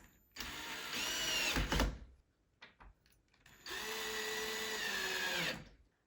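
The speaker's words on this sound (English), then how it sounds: "secure it in place with some screws" A power drill or driver fastens screws through the mounting plate of a door lever mechanism, running in two sustained whirring bursts separated by a short pause with small handling clicks, close and fairly loud.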